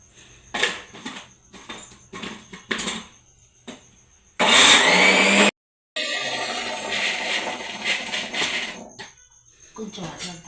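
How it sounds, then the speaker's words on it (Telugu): A kitchen mixer grinder blends green chillies with water in a short, loud whirring burst, followed by more grinding and clatter, with people talking before and around it. "మిక్సీ పెట్టేసుకుందాం అండి."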